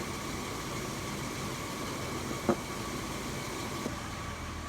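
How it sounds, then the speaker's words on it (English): Toyota 80 Series engine idling during an R134a air-conditioning recharge, a steady low hum with broadband hiss holding level throughout, with one brief faint knock midway. "And turn off the engine."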